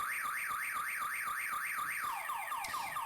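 A car alarm cycles through a rapid warbling siren pattern, then switches to a falling sweeping tone near the end, loud and alone.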